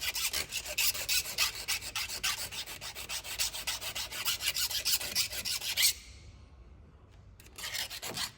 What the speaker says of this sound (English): I'll just run the rat tail file through it a bit, just open it up a little bit.